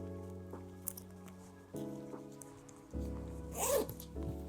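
A zipper pulled shut on a sewn inset pocket in fabric, a close, scratchy zip rising and falling over several seconds, with a low steady hum beneath it.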